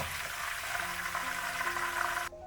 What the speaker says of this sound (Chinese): 这里也是小火慢炸，将葱叶炸1分钟就可以了。